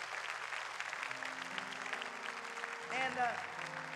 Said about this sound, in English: somebody start clapping, give them a hand.